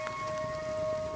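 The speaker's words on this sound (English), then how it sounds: "Apparently it started raining." Rain falling in the video game Nightingale, a steady even hiss of drops on surfaces beneath a faint constant tonal hum, with no speech.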